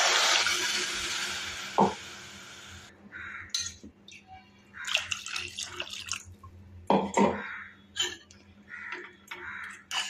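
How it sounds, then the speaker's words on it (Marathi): Water is poured into a pan of toor dal curry with tomatoes and salt, a brief rushing pour followed by clinks, taps and scraping of a spoon against the pot, close and irregular, no voices. "आता आपण थोडंसं पाणी ओतूया."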